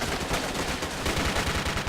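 Rapid, dense gunfire from a light machine gun and an assault rifle in the online shooter Army Rage, continuous loud automatic bursts without pause.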